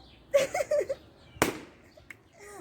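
A surprise balloon bursts once with a sharp, loud pop in the middle, after a child's excited vocalizing beforehand and quieter voices afterward.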